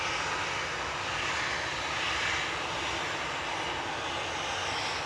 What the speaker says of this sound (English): Sorry, I can't hear with all the planes.